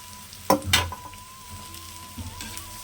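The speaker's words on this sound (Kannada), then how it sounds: "ಕ್ಯಾರೆಟು ಬೀನ್ಸು ಸಣ್ಣದಾಗಿ ಚಿಕ್ಕದಾಗಿ ಹೆಚ್ಕೊಂಡು ಇಟ್ಕೊಂಡಲ್ಲ ಅದನ್ನು ಹಾಕಿದ್ದಾರೆ" Finely chopped carrots and beans drop into a pan of fried onion for upma, a sudden burst of sizzling followed by a quieter steady fry with a few light stirring clatters.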